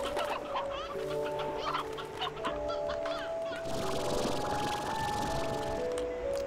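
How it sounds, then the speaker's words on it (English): Chickens cluck steadily in the Slime Rancher video game, a busy, continuous flock chatter at moderate volume over a soft ambient backdrop, with no talking. "Chickens."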